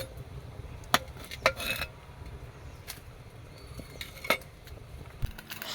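A metal wok (cheenachatti) is set on a kitchen stove, producing a few sharp clinks and clattering knocks spaced over a few seconds against a quiet background.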